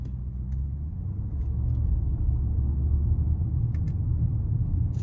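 2025 Audi SQ7 engine and exhaust heard from inside while driving, a smooth, steady low rumble that builds slightly after the first second and holds, with no voices.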